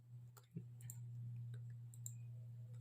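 A few sharp, soft clicks over a steady low electrical hum, sparse and close, with no voices.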